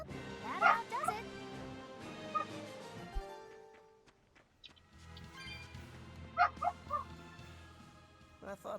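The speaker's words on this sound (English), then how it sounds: "Dogs." Dogs barking in the video game Tales of Berseria, a few sharp yaps in two short bursts over soft background music, with a quiet pause between them.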